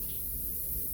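Cooking spray hisses steadily onto a baking dish for a French toast casserole, a close, continuous burst lasting about a second with no talk.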